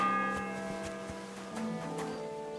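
A church bell rings out in Kingdom Come: Deliverance II, several long sustained tones hanging over a steady ambient bed at moderate volume, with faint soft strikes recurring through the short stretch.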